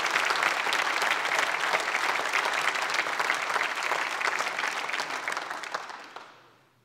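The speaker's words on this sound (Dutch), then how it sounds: "Geef deze twee mensen alsjeblieft een applaus voor wat ze allemaal hebben gedaan." An audience at a book presentation on the history of basketball in the Netherlands applauds loudly and steadily for several seconds, then the clapping thins and fades out at the end.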